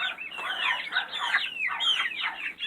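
A flock of farm chickens clucks and squawks excitedly close by as chickweed and oyster shells are put down for them. The overlapping calls are busy and continuous, with no talking.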